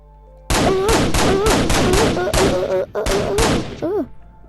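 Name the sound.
gunfire shooting zombies in a video game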